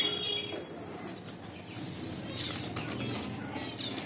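Pigeons in a home loft coo softly and flap their wings, with faint chirps and fluttering close by and no talk.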